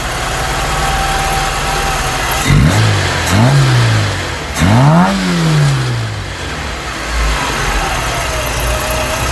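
A Vauxhall Cavalier Mk2 1300 engine with a rebuilt carburettor idles steadily, then is revved in three quick throaty bursts that rise and fall, loud and close, before settling back to idle.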